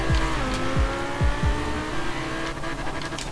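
Ferrari 599 drifting in Forza Horizon 4 during a Formula Drift race, with a steady engine drone and repeated sharp downward revs or shifts early on, loud and close throughout.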